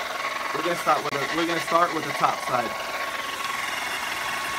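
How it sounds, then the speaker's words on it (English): A hair dryer blowing hot air hums as a steady whirring underneath throughout, used to heat the plastic of a car headlight, while a person talks over it. "But today we don't have a heat gun, so I have a blow dryer."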